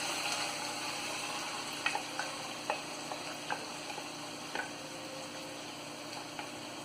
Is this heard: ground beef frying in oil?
yes